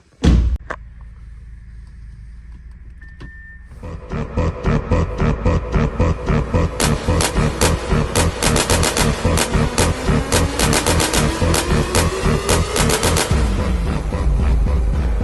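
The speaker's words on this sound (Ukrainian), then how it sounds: "А до нас заїжджає ось така Audi A4." An Audi A4 rolls into a car detailing garage: after a quiet start, a loud, steady, rhythmically pulsing engine and mechanical noise builds in and continues, with a slowly rising tone near the end and no talking.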